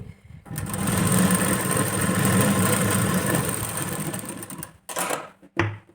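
A steady, close sewing machine hum runs for several seconds while stitching a single-needle seam on the front section of a katori blouse, then breaks into a few short final bursts.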